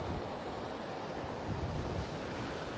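Open sea waves at the Lido near Malamocco, a steady broadband wash of surf mixed with wind rumble on the microphone, continuous and fairly loud with no voices.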